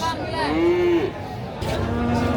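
Limousin cross feeder cattle at a busy cattle market, one clear drawn-out moo near the mic with a second lower call after, over crowd chatter and people talking.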